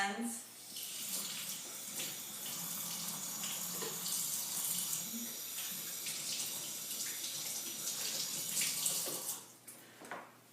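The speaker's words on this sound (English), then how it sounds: "First I need to make sure I wash my hands." Running tap water pours over hands at a kitchen sink, a continuous hissing splash that holds steady for about ten seconds before briefly cutting off near the end.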